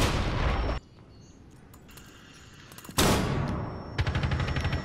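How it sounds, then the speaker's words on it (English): An impact grenade goes off in Rainbow Six Siege, sharp loud blasts and bursts of gunfire separated by a quieter stretch, with a second heavy burst followed by rapid repeated shots. "Impact grenade."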